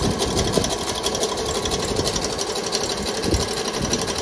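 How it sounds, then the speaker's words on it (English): A sewing machine runs continuously, zigzag stitching stretchy shade cloth, with a steady fast rattling hum close by and no pauses. "It's using so much cotton because I'm doing a zigzag stitch because the shade cloth actually has a bit of stretch in it."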